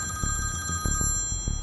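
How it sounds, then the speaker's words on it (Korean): A telephone bell rings continuously, steady and fairly loud, its tone sustained throughout with faint pulsing and no voices heard. "그런데 갑자기 전화벨이 울리더라고요."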